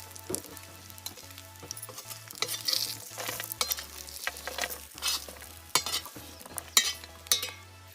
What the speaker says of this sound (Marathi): आपल्याला खोबरं तेल टाकून भाजून घ्यायचं आहे